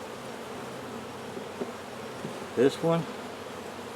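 Honey bees drone steadily around an open double-deep eight-frame hive, a low constant buzz close by, with a brief spoken voice near the end.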